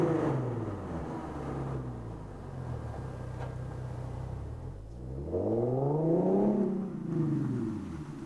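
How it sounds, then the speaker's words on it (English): Nissan 370Z fitted with an Invidia cat-back exhaust accelerating: a low, rumbling exhaust note climbing through revs, dipping at a shift, then rising again in a strong sweep, heard at moderate volume without speech. "The Invidia exhaust sounds amazing."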